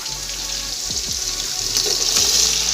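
Vegetables frying in a pan for Chinese biryani, a steady hiss with light sizzling and occasional dull scrapes from a utensil, close and continuous.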